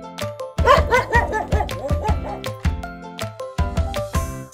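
A dog animal toy barks in short repeated yaps set against upbeat music, loud and close, with a brief burst at the start and steady bouncing beats after.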